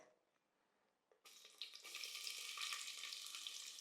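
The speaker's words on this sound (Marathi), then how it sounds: "आणि हा कांदा सुद्धा आपल्याला आता परतून घ्यायचा आहे तर मंद ते मध्यम आचेवर आपण हा कांदा हलक्या गुलाबी रंगावर परतून घेतलेला आहे" Sliced onions sautéing in a pan over low to medium heat for Maharashtrian masale bhat, starting quiet and then breaking into a steady, close broadband sizzle that holds for a few seconds with no talking.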